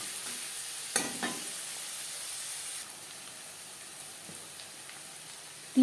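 Onions frying in a pan for a Bengali katla fish kalia, a soft continuous sizzle with a few brief stirring scrapes early on, faint and steady with no voices.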